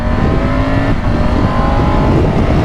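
A 2024 Triumph Tiger GT 900 Aragon Edition motorcycle pulls hard on a road, engine note loud and close, rising in pitch as it accelerates, with steady wind roar throughout and no talk.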